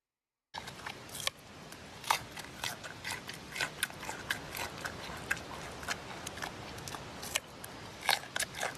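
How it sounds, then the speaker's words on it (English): A panda munching a carrot, giving a steady run of close, crisp crunches and snapping bites with an irregular chewing rhythm and no voices. "Look at him eat that carrot."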